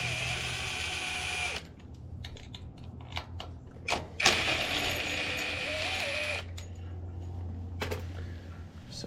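A ratchet wrench loosens a 5/16 bolt on a junk lawn mower in a steady run of close clicking ratcheting, with short pauses and a few sharper metallic knocks.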